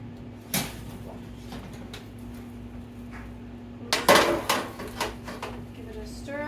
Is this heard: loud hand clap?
no